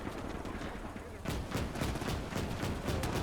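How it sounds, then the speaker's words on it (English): Machine gun fire in the World War II video game Gates of Hell, rapid continuous bursts of automatic gunfire mixed with scattered rifle shots and distant battle noise, dense and sustained throughout. "they are being killed by machine gun fire"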